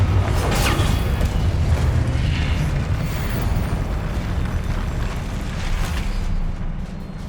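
Confringo blasting spell exploding in Hogwarts Legacy, a loud sustained booming rumble with deep low-end roar and crackling bursts that continue for several seconds before easing slightly at the end.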